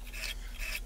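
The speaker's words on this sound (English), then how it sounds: "I'm gonna use a hacksaw" A hacksaw cuts through a case-hardened Beretta 92 pistol hammer in two raspy strokes, the blade grinding with a dry, filing rasp close up and alone.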